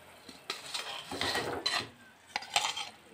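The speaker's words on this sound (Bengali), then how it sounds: "আলুগুলো এইভাবে মশলার সাথে আমি একটু কষিয়ে নিচ্ছি।" Fried potatoes are stirred with curd and spice masala in a pan, producing several scraping, clinking spoon strokes at an irregular rhythm over a soft low sizzle.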